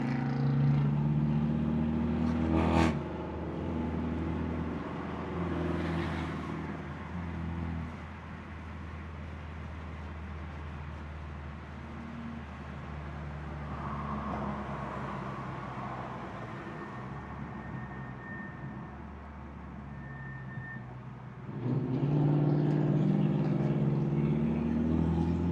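A stage 2+ 2016 BMW F30 328i with straight pipes drives along, its steady engine drone and road noise filling the cabin throughout, swelling louder near the start and again at the end.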